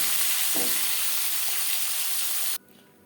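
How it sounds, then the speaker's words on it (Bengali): Loud, steady sizzling of foli fish frying in hot oil, with a faint stir midway, cutting off abruptly near the end. "পরের মাছ একইভাবে ভেজে নেব"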